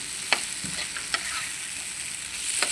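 Garlic, onions and tamarind frying in a pan for a green chili and tomato chutney, with a steady close sizzle broken by a few sharp spatula taps and scrapes as the mixture is stirred, and no talking.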